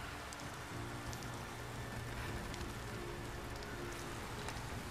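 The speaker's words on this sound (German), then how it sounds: "Mir klatscht der Regen wieder auf die Kamera." Rain patters steadily in a Rise of the Tomb Raider game scene, spattering onto the camera as a continuous, even hiss of drops with a low hum beneath, no voices.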